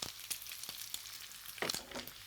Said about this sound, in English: Chorizo sausage and onion frying together.